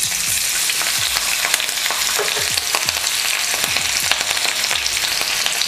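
Green chillies sizzle in hot oil along with mustard seeds and cumin, a dense, loud crackle and spatter that runs continuously with sharp pops scattered throughout and no talking.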